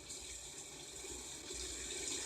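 A shower runs steadily in a horror film scene, a close, continuous hiss of spraying water with no voices.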